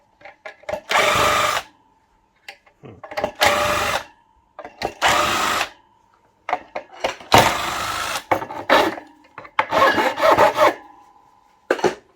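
Plastic being filed with a rasp or file during scrap breakdown gives repeated short, gritty rasping strokes, each about a second long, separated by brief pauses and close to the listener.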